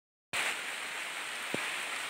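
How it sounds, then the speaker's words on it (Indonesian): Rain suddenly comes in loud and steady, a dense hiss of heavy rainfall that keeps going with little change, with one brief low thump partway through. "terus sana hujan. Hujan lebat."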